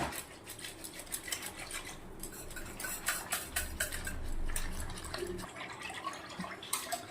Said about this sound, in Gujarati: લોટને આપણે છાશના અંદર મસ્ત ઓગળી દેવાનું છે